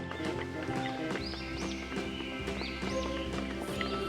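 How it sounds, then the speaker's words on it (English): A horse clip-clops steadily on a hard surface while whinnies and neighs rise over a bed of music, the hooves close and rhythmic throughout. "H for horse."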